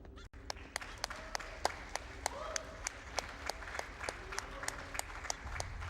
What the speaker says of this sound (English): let's get some applause for finishing that level